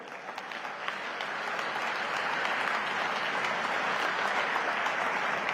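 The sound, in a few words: crowd applauding at political victory rally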